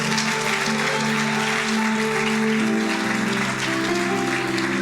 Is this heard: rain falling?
no